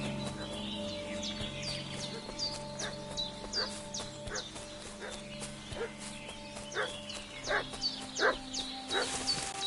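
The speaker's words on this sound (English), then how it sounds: "What's that dog making such a fuss about?" A dog yelps and whimpers in short repeated high cries over steady low background hum, moderately distant, with hoof-like clopping mixed in.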